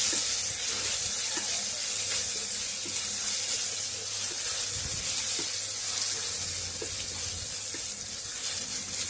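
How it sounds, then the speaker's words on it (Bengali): Chopped tomato and green chillies frying in oil for ghugni make a steady, loud, hissing sizzle that stays even throughout, with a faint low hum underneath and no speech. "কাঁচা লঙ্কা কুচি এগুলোকে আমি ভেজে নেব নরম করে নেব টমেটো"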